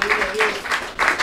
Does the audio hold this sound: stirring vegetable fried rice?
no